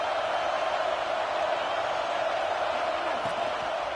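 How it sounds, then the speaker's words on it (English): A packed football stadium crowd at an FSU versus Georgia game sends up a loud, sustained roar, a dense wash of voices and cheers that swells without pause. "Listen to this crowd just shaking the girders of this place,"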